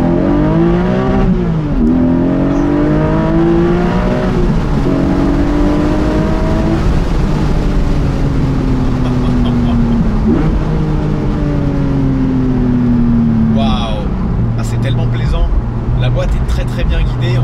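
Porsche 718 Boxster GTS 4.0 convertible with its flat-six engine pulling hard, loud and continuous, the pitch rising through the gears with distinct shift breaks, while someone talks over it from the cabin.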